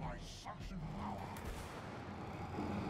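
Gunfire in the co-op video game It Takes Two, a string of muffled booming shots and bursts fired in quick succession at moderate volume, mixed with game noise and some speech.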